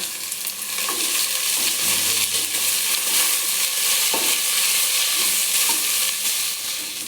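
Mint and coriander leaves fry in oil for plain biryani, a loud dense hiss of sizzling that holds steady throughout, with a couple of faint utensil knocks.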